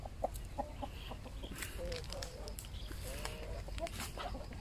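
Soft clucking from triangle-breed chickens, including a rooster, a few short scattered calls over faint background noise, with no talking.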